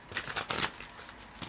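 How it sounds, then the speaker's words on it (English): A deck of playing cards being riffled and shuffled by hand, a quick flurry of soft papery flutters and snaps lasting just over a second, close and fairly quiet. "So let me shuffle a few more times,"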